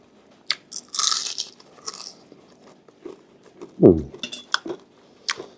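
Crunchy fried mackerel is bitten and chewed up close in a few separate crisp crunches, the loudest one sharp and near, with light clinks of cutlery and dishes in between.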